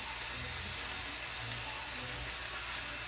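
Garlic sizzles and fries steadily in a pan, a dense continuous hiss with a low background rumble, close and fairly quiet, with no voices over it.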